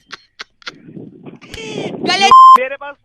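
A short burst of chirpy, garbled sounds ends in a single clear electronic tone as a phone call disconnects, followed by brief speech.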